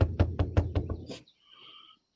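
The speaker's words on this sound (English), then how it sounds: "Does that help if I knock on the screen?" Rapid knocking on a screen: about seven close, hard raps in an even rhythm, followed by a faint, quiet tail.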